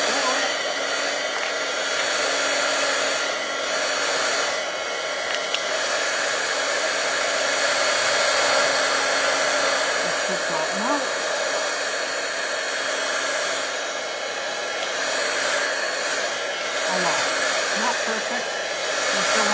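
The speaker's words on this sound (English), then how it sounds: "If you blow that with hot air, it'll dry it for you to work with, but it also will lie it flat." A heat tool blows hot air steadily over an inked card background, a loud continuous whooshing hum lasting the whole stretch, with occasional quiet speech underneath.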